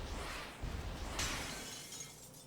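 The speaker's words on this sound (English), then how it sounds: "Sonic walks into them and they shatter" Video lights shatter as Sonic walks into them in Sonic Frontiers: one crisp glassy burst midway through, breaking over a dense, steady bed of game music and ambience.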